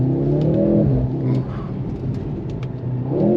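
A 2023 Mercedes-AMG C43 accelerates hard, then downshifts: a steady, loud engine roar that rises, dips briefly, and climbs again, heard from inside the car with no talk.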